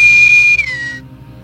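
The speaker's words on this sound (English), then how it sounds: "That's the COM, the calling, and that's from the original Enterprise." Original Star Trek Enterprise communicator call: a single loud, steady electronic whistle tone that drops slightly in pitch partway through and cuts off after about a second, with no other sounds around it.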